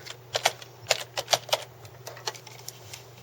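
Typing on a computer keyboard, with about a dozen crisp, close key clicks in an uneven rhythm over a quiet background.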